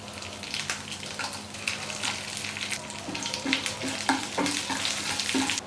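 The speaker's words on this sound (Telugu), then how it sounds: "పోపు దినుసులు చిటపటమన్నాక ఎండుమిర్చి వేసుకోవాలి." Tempering spices and dried red chillies fry in hot oil, making a soft, steady sizzle with scattered pops and crackles and a few scraping stirs.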